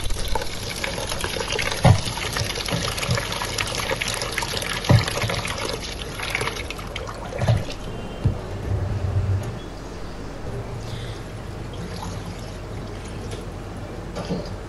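Green gram (moong dal) for pesarattu being washed in water, with steady sloshing and trickling plus a few sharp knocks against the bowl, close and fairly loud, fading to a gentler swish toward the end.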